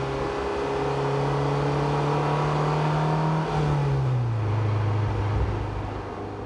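A Honda Civic Type R EK9 with its engine held at a steady, high-pitched rev that then drops and falls away, loud and close, with no talking.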